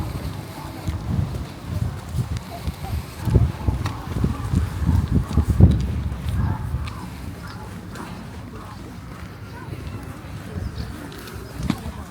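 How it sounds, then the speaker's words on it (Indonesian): Gusty wind at Stadsstrand, an artificial beach in Delfzijl, Groningen, buffets the microphone with low rumbling bursts, strongest midway, while a voice speaks faintly underneath. "Anginnya lumayan keras ya."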